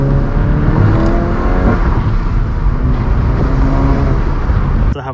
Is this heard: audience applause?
no